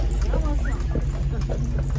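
Horse hooves clip-clopping at a slow, steady pace on a Charleston street, with a person talking over them and a low engine-like hum underneath.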